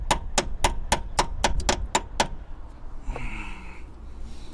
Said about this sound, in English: I'm just using the ratchet because I don't want to hit it with the hammer